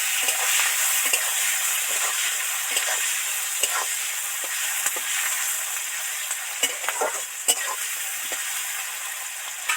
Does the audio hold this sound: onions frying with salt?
yes